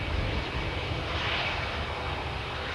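A Jetstar airliner on the Auckland to Christchurch route passes with a steady, broad engine roar that holds at a loud, even level throughout, with no voices present.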